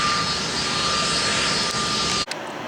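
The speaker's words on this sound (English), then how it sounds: "here's one more Delta jet coming over the taxiway" A Delta jet moves along a taxiway at Atlanta's airport, making a loud, close, steady roar that fills the whole clip before cutting off abruptly near the end.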